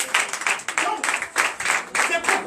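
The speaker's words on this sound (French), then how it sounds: "Donnez l'acclamation à Jésus" A church congregation at a Sunday service in Benin claps steadily and loudly, with rhythmic bursts of applause continuing throughout.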